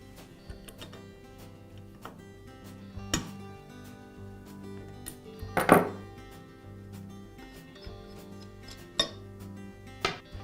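A plunger stem is pulled from a Bostitch floor stapler, giving sparse, quiet metallic clinks and clicks at uneven intervals, with one sharper rattle partway through.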